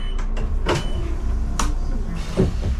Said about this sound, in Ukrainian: відчиняю всі двері.